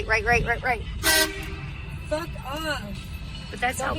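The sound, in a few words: car horn honking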